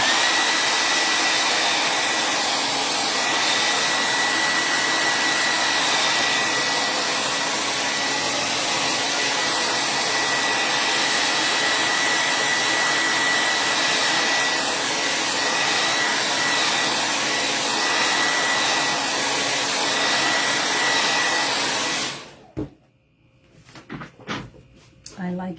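A hair dryer blows continuously on a craft project, a loud, even rushing hiss close by that cuts off near the end, followed by faint handling noises.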